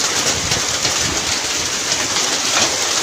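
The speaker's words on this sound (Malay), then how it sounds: "Hujan batu." Dense, continuous hail falls in Indonesia, a loud, even hiss and patter of hailstones striking surfaces close by, without pause and with no voices.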